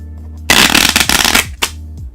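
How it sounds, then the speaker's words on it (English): A deck of playing cards split and riffle-shuffled, then bridged: a loud close fluttering riffle lasting about a second, followed by a short soft snap of cards settling. "That's a real basic shuffle."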